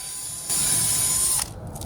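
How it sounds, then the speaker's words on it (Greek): A screw is driven through wooden branches into the back of a wooden planter being prepared for pumpkin and zucchini, a loud steady whirring burst of about a second from a powered driver, near, set against quieter background. "Βιδώνω κατευθείαν τα κλαδάκια μου επάνω στη ζαρτινιέρα μου, στο πίσω μέρος"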